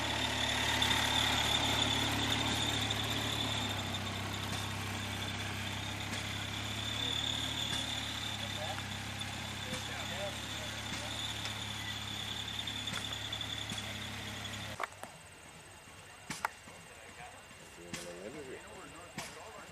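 A Waterloo Boy tractor engine runs steadily while driving, with a low chugging drone and a high whine that carry for about fifteen seconds, then cut away to quieter sounds with scattered knocks.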